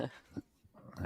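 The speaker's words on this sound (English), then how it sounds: "she's barking at anybody walking by right now trying to get action" A small dog gives a few short, close barks and growls in quick succession, barking at people walking past.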